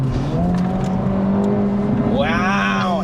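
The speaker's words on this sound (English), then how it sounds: "it pops going downhill" Acura Integra Type S exhaust crackling and popping while coasting downhill on a winding road, heard over a steady engine drone from inside the car, with an engine note rising near the end.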